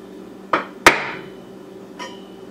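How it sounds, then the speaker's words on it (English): A mallet drives a metal punch into a 1-inch-thick live edge wood slab: two sharp, close knocks in quick succession, then a softer third tap a moment later. "take a mallet and a punch"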